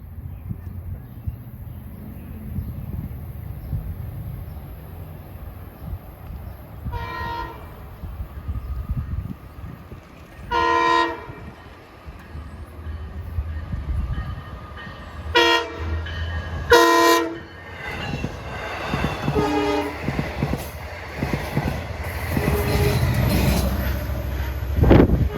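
A westbound Long Island Rail Road train on the Montauk line passes with a rumbling roll as its horn sounds in several separate blasts, the last ones longer and louder, over steady track noise.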